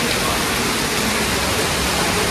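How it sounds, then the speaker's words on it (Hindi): Heavy rain pours down in a dense, unbroken hiss that stays loud and even throughout, with no voice heard. "बहुत तेज बारिश हो रही है"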